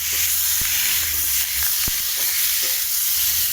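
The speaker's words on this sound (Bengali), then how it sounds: "তো ধনে পাতাগুলো এর সঙ্গে কষিয়ে নেবো।" Coriander leaves and sliced tomato stir-fry in a pan with a steady hiss and sizzle, broken by a couple of sharp spatula scrapes and knocks, no talk.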